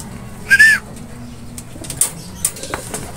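Young racing pigeons make a bright call and bursts of wing flapping, with soft cooing and light rustles nearby; no one speaks.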